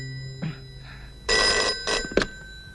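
A telephone rings in a film comedy scene, with short ringing bursts after a faint start, growing brighter and louder toward the end.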